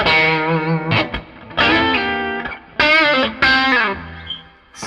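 An electric guitar on an MP Supreme plays through overdriven gain, ringing sustained chords and notes with slight chorus and reverb, loud and close, in several phrases separated by short gaps.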